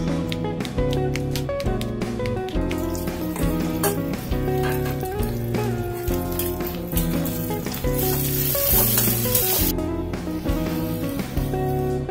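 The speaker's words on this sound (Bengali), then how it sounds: "এখানে লঙ্কাগুলো একটু লালচে লালচে করে ভাজবো" Chillies frying in a pan give a steady hissing sizzle that swells and dips, partly masked by loud background music throughout.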